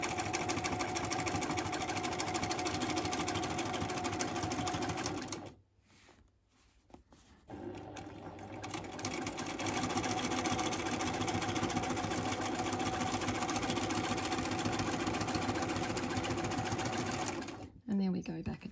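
A sewing machine runs in steady, rapid bursts while free-motion quilting fills a grid block. A brief pause midway marks a stopping point, then the machine resumes, close and loud, with a voice speaking over it.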